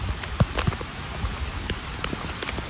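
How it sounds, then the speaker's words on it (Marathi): Heavy monsoon rain falls during a trek to Devkund Waterfall, a steady hiss of drops with scattered sharper patters and splashes close by, without voices. "तुफान पाऊस सुरू झालेला आहे."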